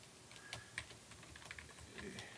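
Quiet, irregular clicks of a computer keyboard as new song text is typed into presentation software, a run of soft keystrokes with a few sharper taps, heard close and alone.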